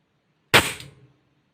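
A single sharp, loud shot fired through a Wellshot Nirnay MK I ballistic chronograph, close by, with a brief ringing decay and otherwise quiet around it.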